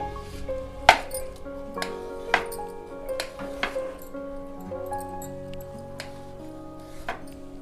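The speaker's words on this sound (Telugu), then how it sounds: "అలాగే అరటిపళ్ళు కూడా ఇలాగ రౌండ్లు కట్ చేయండి" Knife cutting bananas into rounds for a fruit custard, making sharp irregular clicks and taps on a cutting board, close and fairly quiet, over a faint background hum.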